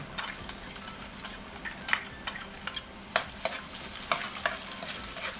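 Onion going into a pan of frying garlic for Filipino ginisang munggo, with a steady sizzle and scattered scrapes and clinks of a stirring utensil against the pan, close up and without talk.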